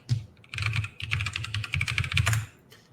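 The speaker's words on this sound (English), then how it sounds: "Let me just type it manually." Keys clatter in quick, uneven bursts as a URL is typed by hand on a computer keyboard, close and clear with short pauses between runs of keystrokes, and nobody speaks.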